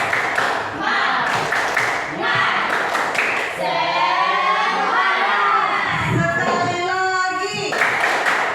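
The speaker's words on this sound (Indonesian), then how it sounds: "Oke, tepuk semangat." Schoolchildren in a classroom perform a rhythmic Indonesian spirit clap, bursts of patterned clapping mixed with shouted chanting and cheering, loud and close, with a teacher's voice between the rounds.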